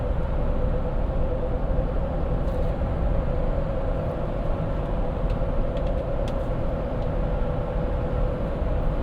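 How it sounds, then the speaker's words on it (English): Steady, loud road roar fills the cabin of a 2021 Ford Bronco Wildtrak rolling on Sasquatch-package tires, a constant broadband rumble with a faint tonal hum and no talking. "The only thing that I have is definitely just the road noise."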